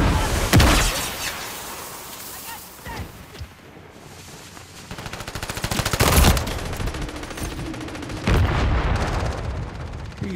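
Bursts of automatic and single-shot gunfire in a Call of Duty Hardpoint match, loud and dense throughout with sharp blasts and crackling impacts, including a few heavier explosive hits.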